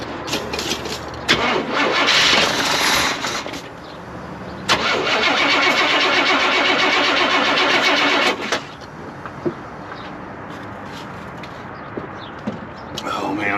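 A 454 big block V8 in a 1974 GMC Grand Sierra 3+3 dually cranks with a loud starter whir in two long attempts, then settles into a rough idle, with a voice talking briefly and birds faintly outdoors.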